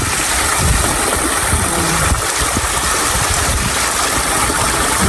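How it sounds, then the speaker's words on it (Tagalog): A flowing stream in a park, with a loud, steady rushing of water that continues without break from start to finish. "Ang daloy ng tubig, guys,"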